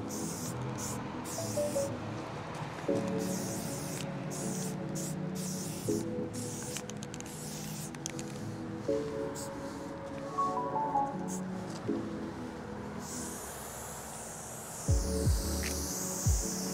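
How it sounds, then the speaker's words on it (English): A spray paint can fitted with a soft thin-line replacement cap hisses in a long steady stream, broken by short pauses between bursts, with background music playing underneath. "you can feel that it kind of has a softer spray than the typical stock cap"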